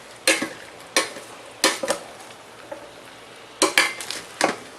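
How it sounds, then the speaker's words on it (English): Meat sautés in an Instant Pot Mini for chili, with a faint sizzle beneath about half a dozen sharp utensil scrapes and knocks against the inner pot, some arriving in quick pairs. "So it says you're supposed to saute until the meat is no longer pink."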